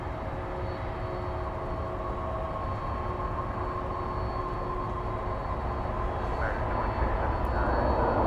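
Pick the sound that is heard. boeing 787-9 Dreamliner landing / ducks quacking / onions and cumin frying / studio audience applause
boeing 787-9 Dreamliner landing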